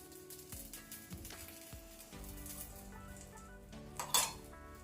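A spoon stirs okra masala with freshly chopped coriander in a cooking pan, scraping and clinking against the metal while a steady sizzle of frying runs underneath, with one sharper clink near the end.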